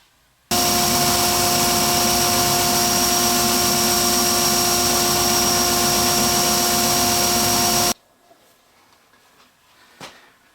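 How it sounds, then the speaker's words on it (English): A belt sander cleans up the edges of cut wooden circles for a Tower of Brahma puzzle, a loud, steady whining grind with a high tonal hum that runs for about seven seconds, then cuts off into near silence. "we're going to take them over to the belt sander and clean up any of the imperfections on the edges of the circles"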